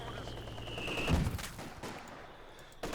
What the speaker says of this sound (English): MG34 hitting the infantry section squad